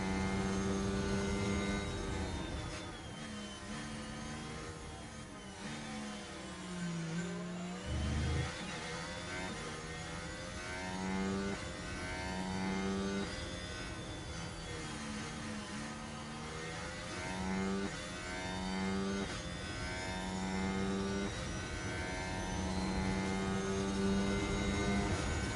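Formula 1 car engines in the F1 Manager 23 racing game at Marina Bay whine steadily, with rising and falling pitch sweeps as the cars accelerate out of corners, a continuous mechanical drone throughout.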